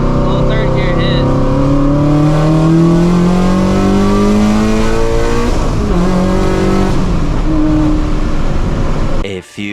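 A supercharged Shelby GT350 pulls hard in third gear, its exhaust rising in loud climbing harmonic sweeps up close before a brief shift break and a sudden cut at the end.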